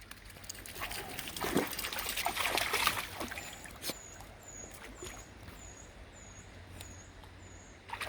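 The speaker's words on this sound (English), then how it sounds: "You can actually hear the water now when you shut your mouth." A woodland stream trickles and babbles softly in the background, with scattered splashy patters and faint birdsong chirping repeatedly toward the end.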